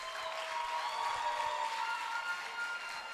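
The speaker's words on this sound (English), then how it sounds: "Can we clap for the year 5 students again?" At a law and jurisprudence symposium in Nigeria, an audience gives faint, steady clapping for year 5 students. The applause sounds distant and soft and continues evenly throughout.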